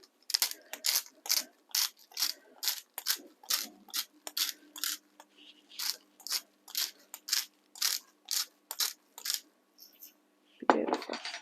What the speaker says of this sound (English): crank some salt over the top.